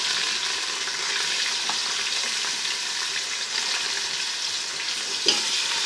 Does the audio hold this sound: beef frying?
yes